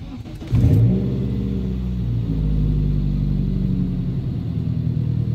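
A noisy, ticking Dodge Neon engine starts up and then idles and pulls away on a test drive, producing a loud, steady low rumble that stays close throughout, with no talk over it.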